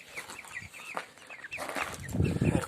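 A broiler chicken that cannot walk clucks in short, low bursts close by, with some higher calls and faint background noise.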